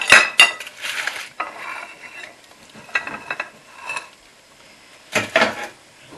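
Dishes and cutlery clinking while plating liver, bacon, onions and mashed potato in a home kitchen, several close, sharp clatters and scrapes of a spoon on plates and a pan in irregular bursts, no voices.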